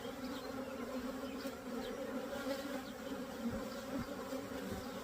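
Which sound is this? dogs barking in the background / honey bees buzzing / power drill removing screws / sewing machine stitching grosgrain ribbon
honey bees buzzing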